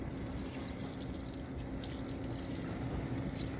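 A GE top-load washing machine on a bulky-items deep-fill cycle fills with water, a loud, continuous splashing rush of pouring water into the drum, steady and close with no talk.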